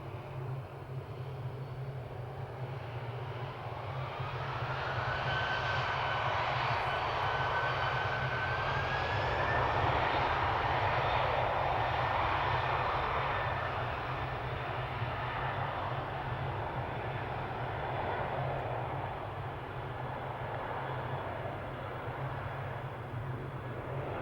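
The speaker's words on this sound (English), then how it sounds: "Amazing takeoff there from that KLM 747" A KLM Boeing 747 takes off at Amsterdam Schiphol, its distant jet engines a broad, steady roar that swells and then slowly fades, with a low rumble underneath.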